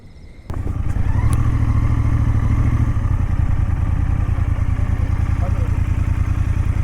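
A motorcycle starts up abruptly and runs with a loud, close, steady engine rumble and throbbing beat on a winding road, the engine note holding even as people talk briefly over it.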